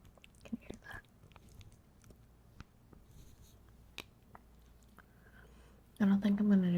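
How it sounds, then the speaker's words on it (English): Someone eating Trader Joe's dishes close to the mic, with soft intermittent chewing and mouth sounds in a quiet room, then a louder burst of speech at the end. "I don't think I'm gonna do too heavy of chewing sounds"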